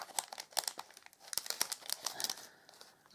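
Crinkly plastic packaging of Stampin' Up! stamping and scrapbooking supplies crumples and tears open in quick, close bursts of rustling, with no talk.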